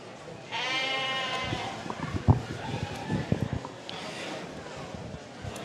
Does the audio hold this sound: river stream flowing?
no